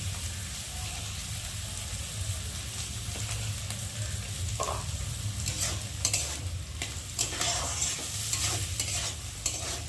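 Mixed vegetables with peas fry in white oil in a pan for fried rice, a steady close sizzle with crackling bursts and stirring that grow busier toward the end.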